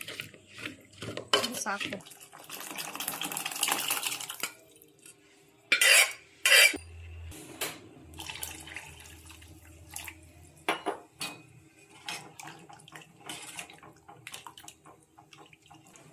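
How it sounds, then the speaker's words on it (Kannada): Cooked dal being mashed in a metal pot for rasam sambar, with irregular scraping, clanks and wet squelches close by, two sharp metallic knocks midway, and a brief spoken word. "ಇದನ್ನು ಮ್ಯಾಶ್ ಮಾಡ್ಕೊಂಡ್ಬಿಡೋಣ ಚೆನ್ನಾಗಿ."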